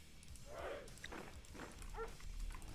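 Dogs barking in the Red Alert 2 mod Mental Omega during a strategy match, several short, faint barks spaced out against quiet game background sound.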